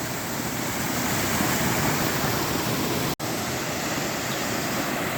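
A swollen creek on the Appalachian Trail, normally a trickle, rushes loudly and steadily nearby, a dense unbroken roar of fast water with no voices.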